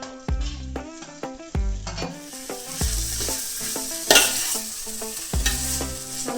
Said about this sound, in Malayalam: ഇത് വരണ്ട് വന്നിട്ടുണ്ടെങ്കിൽ അതിലേക്ക് നമുക്ക് തക്കാളിക്ക് ചേർത്ത് കൊടുക്കാം